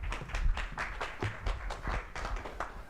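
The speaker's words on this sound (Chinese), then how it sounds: "最后邀请本次大会主席聂乔林主任致辞，掌声欢迎聂主任。" An audience applauds at the 2024 TSBS conference at the National Taiwan University of Sport as the conference chair is welcomed. The clapping is faint, distant and steady, with no speech over it.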